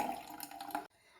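Lemon water strained through a sieve into a cup makes a brief close trickle and splash of liquid, then stops abruptly.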